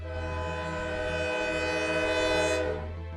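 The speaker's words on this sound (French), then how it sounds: "Puis j'ai entendu le klaxon du train." A loud train horn blares over the heavy rumble of a passing train on rails, sustained and close for several seconds before easing off slightly at the end.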